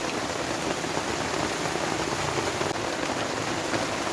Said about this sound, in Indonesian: Duh, hujan deras teman-teman.